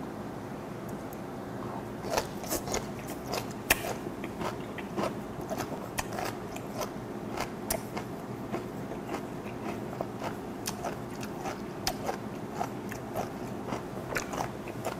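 Kimchi napa cabbage root is chewed up close, giving a long run of sharp, crisp crunches and bites in an uneven rhythm, with no talking.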